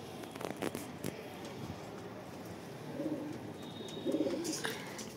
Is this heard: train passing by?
no